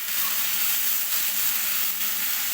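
Rice and lentils, with browned vermicelli, sizzle and hiss steadily in a hot pan while being stir-fried for Egyptian koshari. The frying noise is loud, close and continuous, with no talking.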